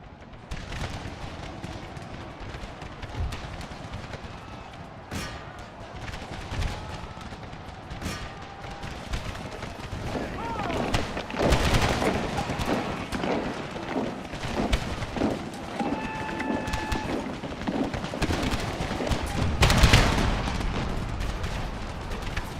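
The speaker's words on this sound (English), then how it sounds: "first cannon, get ready to switch to canister shot" Cannon fire in a Napoleonic-era battle in an Empire: Total War mod, with heavy booms and scattered cracks of massed gunfire rolling over a continuous rumble of battle, growing louder toward the end.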